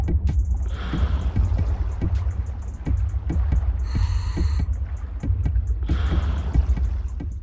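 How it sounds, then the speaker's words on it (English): An underwater bunker in GTA 5 gives off steady, faint rhythmic tapping over a low, continuous watery rumble, with a muffled bubbling swell rising and fading at intervals. "there's this weird tapping noise you can hear as you get closer."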